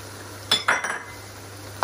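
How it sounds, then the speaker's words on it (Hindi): A spoon stirs yogurt into chicken frying slowly in a pot over low heat, with a few soft metallic clinks and scrapes against the pot over a quiet background hiss. "योगर्ट को भी अच्छे से मिक्स करते हैं और चिकन की भी साथ साथ भुनाई करते हैं"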